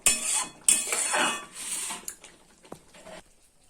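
A metal pot of Bengali-style mushroom curry is lifted off the stove, giving a couple of sharp clanks and scrapes of metal on metal followed by a few softer knocks, close and with no one talking.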